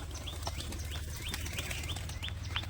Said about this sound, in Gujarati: જો આ એક કાબરો વહી ગયો બહાર